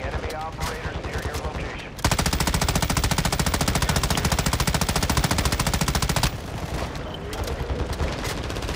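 Sustained automatic machine gun fire in Call of Duty: Modern Warfare II, a dense rapid burst running about four seconds, loud and close, with quieter game noise and brief talk before and after.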